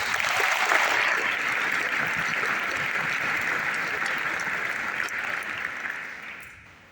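A conference audience applauds steadily for several seconds, a dense wash of clapping that holds level and then fades out at the end, with no talking over it.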